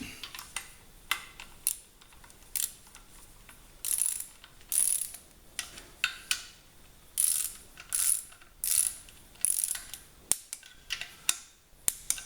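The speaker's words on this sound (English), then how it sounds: "So I have the torque wrench set." A torque wrench ratchets in short, crisp bursts while tightening bolts on an engine short block, the clicking runs repeating every second or so at close range.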